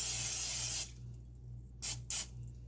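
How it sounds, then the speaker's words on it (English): Cooking spray hisses from a can onto a bowl: one long spray, a pause, then two short quick bursts, all close and fairly loud over a low steady hum. "You also need some cooking spray or oil or butter or something, and you're gonna have to grease this."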